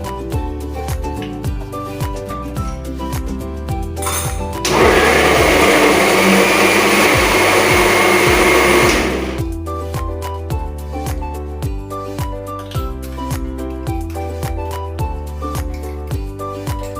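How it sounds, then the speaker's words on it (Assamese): A mixer grinder grinds tomatoes into paste with a loud, steady whirring burst of about four seconds, starting and stopping abruptly. Rhythmic background music plays before and after. "এই বিলাহীখিনি মিক্সাৰত পিচি লওঁ"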